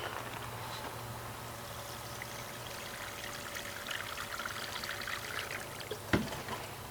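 Water poured from a hose into a pot of cayenne pepper plants in a summer garden, a steady gentle trickle and splash running throughout, with a brief louder splash near the end.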